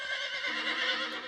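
A tired horse neighs in an animated Revolutionary War scene, a sustained whinny lasting over a second, loud and close with no talk over it.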